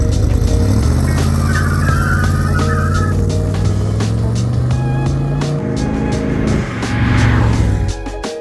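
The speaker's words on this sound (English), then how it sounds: "The burnout." A 1980 C3 Corvette roars through a loud, sustained burnout, engine droning steadily with tire squeal layered over it for several seconds before the noise eases near the end.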